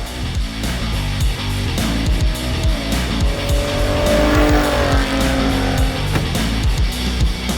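A Hennessey VelociRaptor and a stock Ford Raptor drag racing side by side in a straight line: loud, roaring engines revving hard with tire squeal and skidding, sustained and close throughout.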